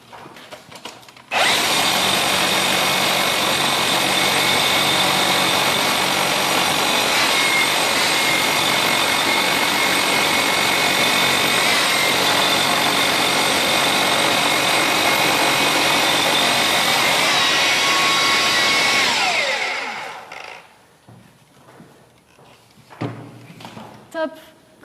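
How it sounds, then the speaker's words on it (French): Hilti TE 70-ATC/AVR rotary hammer drilling on a construction site: a loud, steady hammering drone holds for about twenty seconds after a short start, then winds down, followed by quieter knocks and handling sounds. "je te laisse faire le percement"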